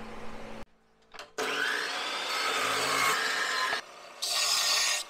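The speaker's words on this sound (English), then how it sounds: "so I'm gonna have to polish down a piece of inch and a half." A 1.5 inch steel tube being polished down in a metal shop, with a loud abrasive whirring grind that starts, stops briefly, resumes in long steady stretches and cuts out again near the end.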